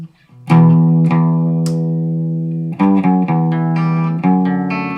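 A BC Rich Mockingbird ST electric guitar played clean with pickups out of phase, a thin, nasal, hollow tone, a few sustained chords and single plucks ringing out, no voices.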